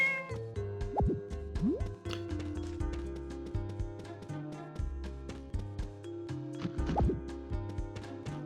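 Cartoonish cat meows sound twice within Harvest Moon: Magical Melody over looping music and game effects, fairly close and clear, with no talking.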